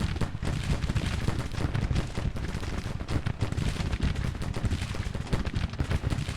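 Civil War musket battle in the strategy game Grand Tactician, a dense, continuous crackle of rifle volleys with booming cannon fire layered throughout, loud and unbroken.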